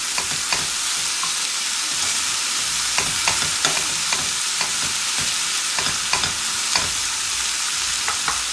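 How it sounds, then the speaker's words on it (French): Chicken curry cooking in a pan as coconut milk goes in, with a steady close sizzle and fry throughout, broken by light, irregular stirring scrapes and taps; no voices. "Je vais ajouter mon lait de coco"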